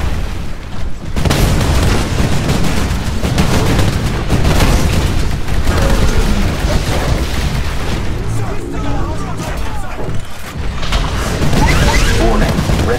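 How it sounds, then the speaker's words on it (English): A Titan attacks in the video game Titanfall, and heavy explosions and gunfire pound in a dense, loud barrage that barely lets up for the whole stretch. "Titan is attacking us."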